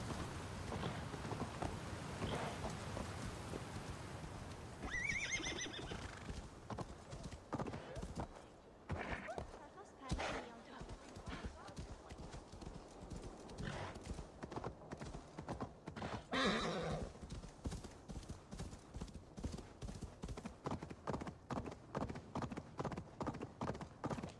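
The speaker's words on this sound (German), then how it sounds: "Aber ich darf ein Pferdchen holen." A horse in the video game Assassin's Creed Valhalla clip-clops at a steady pace and gives a couple of brief whinnies, moderately loud and close, with no talk over it.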